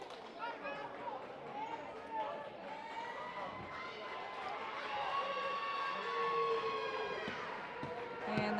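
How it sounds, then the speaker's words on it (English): A girls' high school basketball crowd at Lynn Classical versus Saugus swells into loud cheering and chatter over several seconds, with scattered shouts and a faint ball bounce under a commentator's voice. "And the crowd getting loud for Classical"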